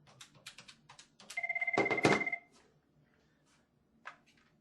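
A desk VoIP phone rings for an incoming call, a clear electronic trill pulsing for about a second in a quiet office, after some soft clicks and before a brief tone.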